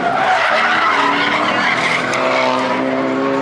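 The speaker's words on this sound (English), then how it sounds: "We just met Mohammed with his drift car, the Drift convertible Mustang." A convertible Ford Mustang drift car with a full cage slides at a drift event, its tires screeching in a loud, continuous squeal over a roaring engine, heard close from inside the car.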